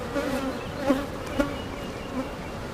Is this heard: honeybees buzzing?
yes